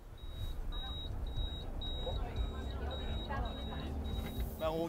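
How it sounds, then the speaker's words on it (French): A steady electronic beep, probably a vehicle alarm, repeats in a regular pulse about twice a second throughout. People talk over a rumbling background. "C'est pas stressant ce bip."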